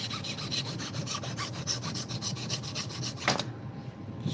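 Steady back-and-forth rasping of a file working around a small wooden dowel for a tiny mallet, close and rhythmic, ending with a brief scrape and a moment of quiet.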